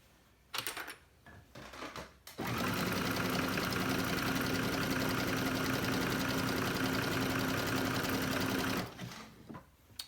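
A sewing machine running a zigzag stitch while gathering fabric with elastic, with a few separate starts, then a loud, steady, rapid mechanical whirring for several seconds before stopping.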